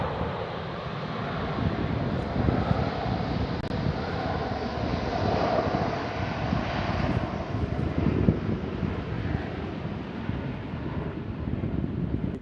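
A Delta Airlines jet at San Francisco International Airport gives a steady, broad engine roar with some wind buffeting on the microphone, holding fairly loud and even throughout with no talk.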